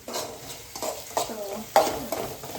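Finely chopped chillies, onion, ginger and garlic frying in a pan, with a utensil scraping and stirring in quick strokes over a soft sizzle, close and clear.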